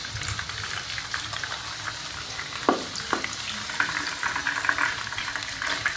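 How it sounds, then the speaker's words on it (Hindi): Chicken sticks deep frying in hot oil, a soft continuous bubbling crackle that holds steady throughout, with a couple of brief clanks partway through. "अब हम इसे दूसरी साइड से भी गोल्डन होने तक फ्राई कर लेंगे।"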